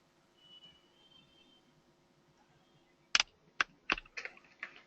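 A computer keyboard is typed on while code is being written. After a quiet stretch, a handful of close, crisp keystrokes click out in an uneven rhythm.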